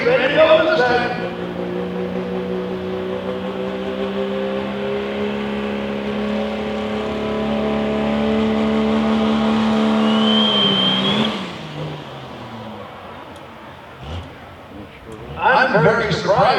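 A pro stock diesel truck at a county fair tractor pull holds a loud, sustained engine rev for about eleven seconds, its pitch climbing slightly before it drops off. Faint crowd noise and talk follow.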